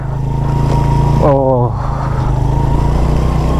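A motorcycle rides over sand and stones near Skardu, its engine a loud, steady close drone with a brief wavering surge in the middle; a voice speaks over it.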